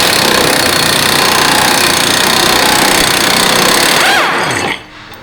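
A power tool loudly rattles a bolt loose from the rear subframe of a Nissan Altima, a steady hammering impact drone that winds down and stops near the end.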